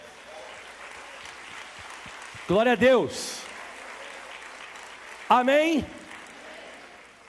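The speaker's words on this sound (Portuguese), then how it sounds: "Aplauda bem forte ao Senhor" Applause from a church congregation rises as a steady crackle under sung or chanted voices, with brief louder bursts of voices near and over it.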